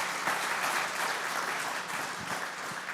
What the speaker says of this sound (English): another round of applause for Neil, guys.